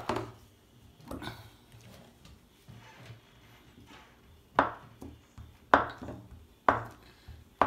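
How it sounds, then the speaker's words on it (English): A knife cuts through a stick of butter on a board while making pork belly burnt ends: a few quiet taps early, then four sharper, louder knocks spaced about a second apart near the end. "I'm just gonna slice up some butter"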